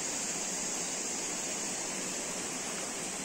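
A clean river flows in a steady, dense wash of rushing water, loud and continuous with no breaks, and no voices over it.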